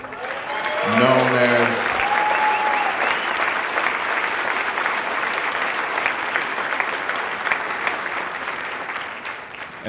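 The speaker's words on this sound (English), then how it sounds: "let's give a big round of applause for my friend, my teammate" Audience applause fills a hall at a Rotary debate event, loud and sustained for the whole stretch, with a brief voice speaking over the opening seconds.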